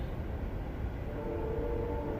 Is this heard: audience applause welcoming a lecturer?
no